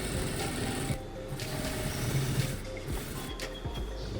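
A sewing machine runs steadily while understitching a seam on a boxy parka, a continuous mechanical whir with slight changes in pace over several seconds.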